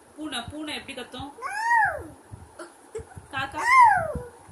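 A young child imitates a cat's meow, giving two drawn-out, rising-and-falling meows after a few short voiced sounds, close and clear.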